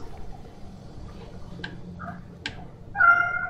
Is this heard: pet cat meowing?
yes